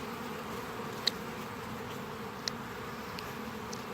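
Honeybees drone steadily in a continuous insect hum around a beehive as they clean out wax, the buzzing even and close throughout, with two brief sharper ticks standing out.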